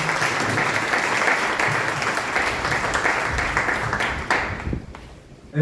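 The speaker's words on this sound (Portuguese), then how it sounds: "vamos nesse momento aplaudir Frei Carlos por essa belíssima apresentação" Steady, full audience applause for Frei Carlos after a lecture on Francis of Assisi, holding strong and then fading out near the end.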